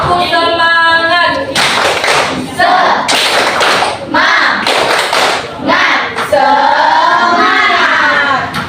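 A classroom of children doing a rhythmic spirit-clap chant, sharp hand claps and thumps in patterned bursts mixed with shouted young voices, loud and close throughout.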